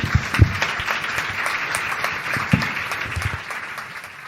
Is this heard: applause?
yes